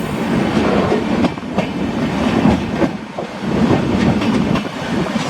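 The Dibrugarh Rajdhani Express runs along the rails with a loud, continuous rumbling roar and faint rhythmic clatter of wheels over track joints, heard steadily throughout.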